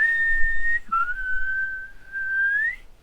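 A person whistles a clear, sustained tone, holding one pitch, dipping briefly, then gliding upward at the end; close and alone.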